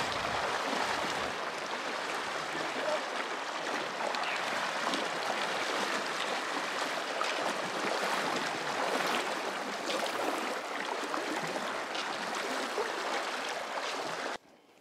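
A stream rushes and gurgles steadily at close range at a trail crossing on the Continental Divide Trail, a continuous broad wash of flowing water that cuts off abruptly at the end.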